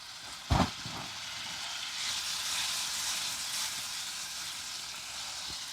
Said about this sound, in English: that gives a little sizzle around there because the fat's dripping off that